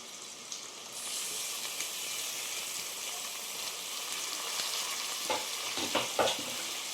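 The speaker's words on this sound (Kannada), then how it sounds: "ಇವಾಗ ಇದನ್ನು ಫ್ರೈ ಮಾಡ್ಕೊತೀನಿ" Chopped tomatoes frying in a pan for mint chicken fry, a steady sizzle with stirring clatter toward the end, close and moderately loud.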